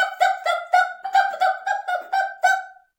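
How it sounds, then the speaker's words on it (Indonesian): A chick calls for its mother hen in a children's story about a red hen searching near a fire: about ten short, evenly spaced harmonic cheeps, clear and close, with no talking. "Itu suara Ciko anakku."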